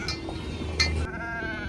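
A goat bleats nearby in a couple of short, wavering calls over a quiet outdoor background.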